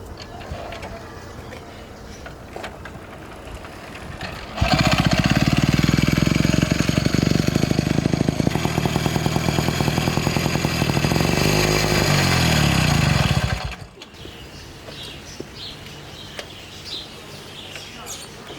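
A 1926 Zehnder motorcycle engine starts up close and loud, running with a rapid, even beat for about nine seconds before cutting off abruptly, leaving quiet background with faint birds.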